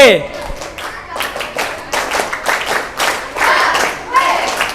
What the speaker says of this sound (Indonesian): Tepuk HW.